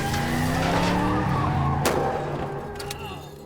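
A car skids loudly as it fails to make a turn, its engine droning and tires sliding for a few seconds before the noise fades, with a sharp knock partway through.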